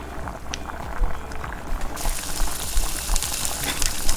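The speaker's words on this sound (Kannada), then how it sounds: "ಈ ಕರಿಗೆ ಒಗ್ಗರಣೆ ಕೊಡುವ." Cowpea seed curry bubbles and simmers in the pot, then a hot coconut-oil tempering with onion is poured in, bringing a sudden louder sizzle and hiss over the continuing bubbling.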